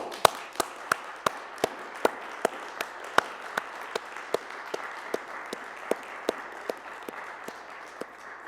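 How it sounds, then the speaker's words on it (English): An audience at a University of Winnipeg convocation ceremony gives a sustained round of applause. A few sharp, evenly spaced claps stand out above the steady wash of clapping. "Please join me in a warm round of applause"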